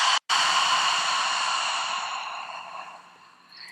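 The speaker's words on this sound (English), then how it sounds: "And take a full breath in through your nose. Open mouth exhale." A long, breathy open-mouth exhale during a yoga flow, loud and close at first and fading gradually over about three seconds after a brief quick intake, with no speech.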